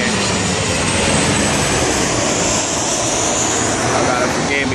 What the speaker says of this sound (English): They got planes flying over.